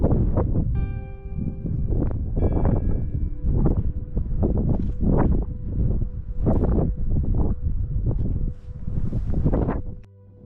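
Wind buffets a camera microphone on an open hillside walk in the Peak District near Sheldon village, loud rumbling gusts that surge and fall in repeated bursts for the whole stretch before cutting off at the end.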